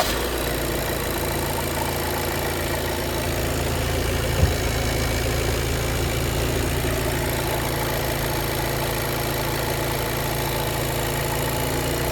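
A compressor, apparently new, runs on a used car being inspected, humming steadily and evenly alongside an idling engine for the whole stretch, with no talking.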